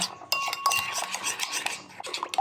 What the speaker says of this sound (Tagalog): Haluin lang muna natin hanggang sa matunaw yung ating mga nilagay na pampalasa